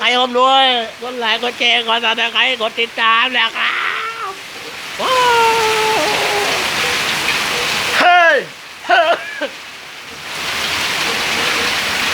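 Heavy rain falls in a steady, loud hiss that lasts the whole time. A voice sings and calls out over it in strong bursts, and the rain is clearest during the gaps between them.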